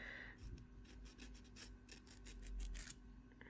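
A fingernail is filed shorter with a nail file during nail preparation, giving a close, soft rasping stroke repeated about a dozen times in quick, uneven rhythm, with no talking.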